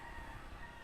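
Birds call in an outdoor group, a faint rooster-like crow mixed with clucking fowl under a constant background hiss, brief and distant.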